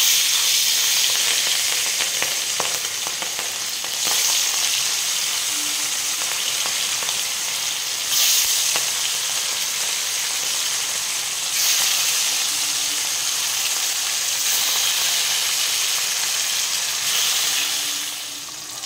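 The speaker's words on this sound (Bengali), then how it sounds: "তেল গরম হয়ে গেছে, মাছটা ভেজে নেব।" Hilsa fish frying in hot oil in a wok on a gas stove, a loud, continuous sizzling hiss that holds steady throughout with slight surges and no talking.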